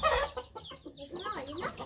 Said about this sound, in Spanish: Y es una gallina.